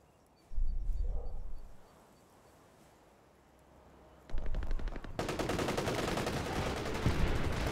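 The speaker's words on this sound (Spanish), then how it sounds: "Tiene una ametralladora ahí, a ver si la puedo tirar." Machine gun fire in a multiplayer war game: a dull thump and low rumble come first, then rapid, close bursts of automatic fire rattle on steadily to the end.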